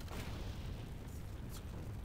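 Barrels blow up in the action role-playing game Torchlight 2, a dense, continuous low rumble of blasts lasting about two seconds with no talk.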